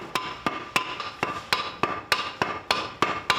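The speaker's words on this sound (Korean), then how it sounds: "여인들이 나무망치로 천을 두드리고 있다" Wooden mallets pound cloth in a steady rhythm of sharp, loud thwacks, about three per second, as women beat fabric to make it shine in a Guizhou minority village in China.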